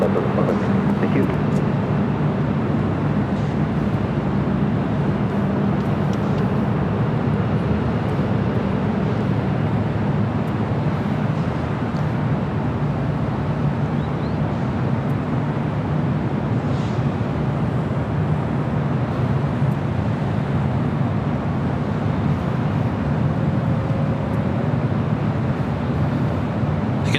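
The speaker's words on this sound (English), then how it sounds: "This is Air France Flight 25 heading back to Paris, and this 15-year-old 777-300ER." An Air France Boeing 777-300ER, fifteen years old, at LAX: a steady, unbroken jet engine roar that holds at full level for the whole stretch, with no talk heard over it.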